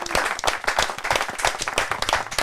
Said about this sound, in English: big round of applause live at Paco's Place, Dwarf!